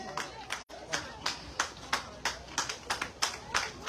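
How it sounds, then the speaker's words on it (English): A crowd at a PPP/C political rally in Dundee, Mahaicony, Guyana claps in unison, sharp rhythmic beats about three per second, fairly faint and spread out, with a loud voice over them urging people on. "Come on, clap those hands, man."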